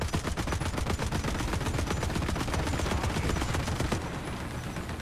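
Rapid, sustained gunfire from tanks in a War Thunder ground battle: a steady stream of closely spaced loud shots, like an automatic weapon, with no pauses across the whole stretch and no talking.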